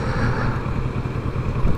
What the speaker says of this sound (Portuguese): Com a mini moto.